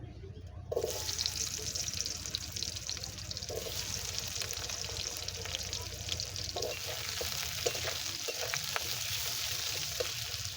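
Diced onions sizzle in hot mustard oil, a loud, steady frying hiss that starts suddenly as they hit the pan and carries on with occasional stirring scrapes.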